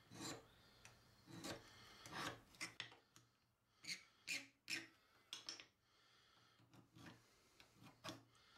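A metal file rasps across freshly cut metal pieces to deburr them, giving a series of short, close scraping strokes with brief pauses between them, each stroke distinct and fairly quiet, with no talking.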